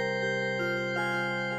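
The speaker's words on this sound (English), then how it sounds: "Let's try digital organ." Digital organ patch on the 4Pockets Oscidia wavetable synth, dry with no added effects: steady sustained organ tones with rich harmonics, shifting pitch a couple of times, playing alone without voices.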